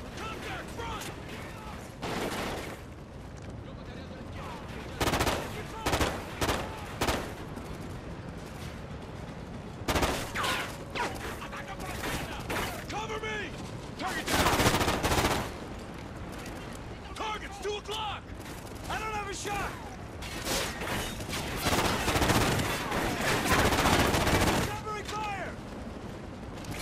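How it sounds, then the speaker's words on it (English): Heavy gunfire in a Call of Duty: Ghosts battle, with rapid bursts of rifle and machine-gun fire crackling nearby over and over above a dense rumble of combat noise and shouted voices. "Give me some covering fire!"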